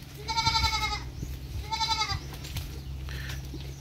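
Two clear goat bleats, close and loud, with a fainter third call after, over low rumbling background noise.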